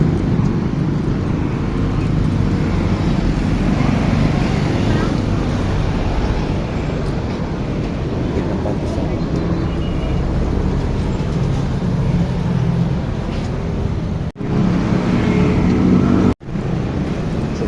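Highway traffic rumbles past in a continuous heavy roar of passing vehicles heard from the roadside, steady and loud with brief cuts near the end and no clear talk.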